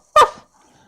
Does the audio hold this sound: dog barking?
yes